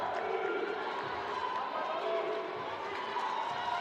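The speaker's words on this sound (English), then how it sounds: "the crowd delighted here in Istanbul" Volleyball arena crowd in Istanbul roars and cheers continuously, a dense, loud wash of voices filling the hall, with a commentator talking over it.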